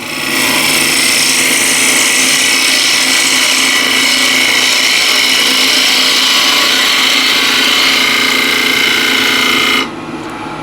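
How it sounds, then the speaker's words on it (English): A ball gouge cuts yew wood spinning on a lathe, a steady loud hiss and whine of tool on wood held for about ten seconds before stopping abruptly near the end. "So again, ball gouge."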